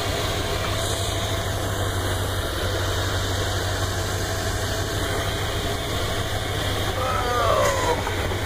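A car engine running low in first gear, a steady rumbling drone with a low hum beneath it that stays even throughout, someone talking over it.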